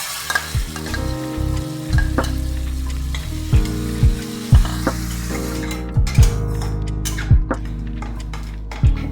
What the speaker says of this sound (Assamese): এতিয়া আদা নহৰু পেষ্টখিনি ইয়াত দি দিম। আৰু বিলাহীখিনি দি দিলোঁ।